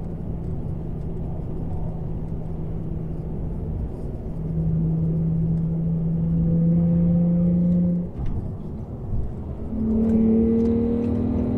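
Nissan G35 with stock headers, ISR test pipes and HKS axle-back exhaust, revving and then letting RPMs run down: a steady low droning exhaust tone that rises and holds, then swells again near the end, close and loud, with no talking.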